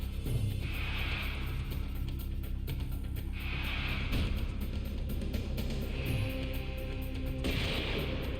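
Gatling gun attack in the PS2 role-playing game Wild Arms 3, a dense and continuous rattle of rapid shots over a rumbling low roar, with recurring bright swells of blast noise.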